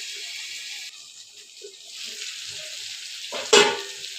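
Food fries in oil in a pan and is stirred, a steady close sizzling hiss with soft scraping and a sharp clatter near the end, with no talking.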